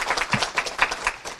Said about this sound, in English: Big clap for her too, actually.